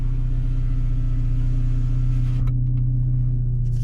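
Inside the cab of a new Jeep Gladiator with straight-piped exhaust and the windows up, a steady low drone rumbles for a few seconds, then a soft thump as the sound eases slightly.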